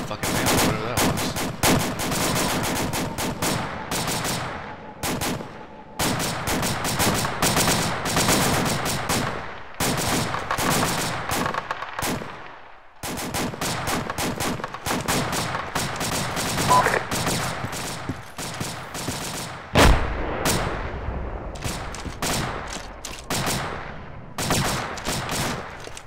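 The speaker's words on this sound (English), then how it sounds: "is that fire you're taking? Are you sure that's RPGs, not an SPG?" Heavy gunfire and RPG fire ring out in the military video game Arma 2: dense bursts of rifle and machine-gun shots come in long clusters with brief gaps, and a louder, deeper blast lands near the end.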